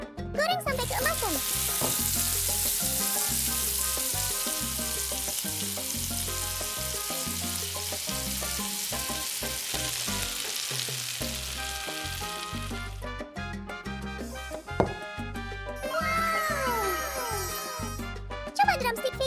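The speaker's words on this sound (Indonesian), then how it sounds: "Goreng sampai keemasan." Coated chicken, seasoned with salt and black pepper and double-dipped for crunch, fries in hot oil until golden, with loud, continuous sizzling and bubbling that runs nearly twenty seconds. Background music plays throughout.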